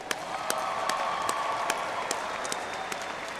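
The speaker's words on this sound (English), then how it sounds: "Let's give him one more round of applause." A crowd at a spring 2024 ceremony applauds a retiring man, steady dense clapping with a few sharper individual claps standing out, sustained and fairly loud throughout.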